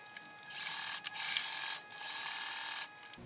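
A sewing machine runs in three bursts of rapid mechanical stitching, whirring and clattering close by, with brief pauses between runs.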